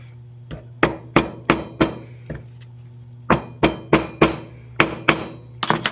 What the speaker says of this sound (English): So this is where my ball peen hammer will come in handy.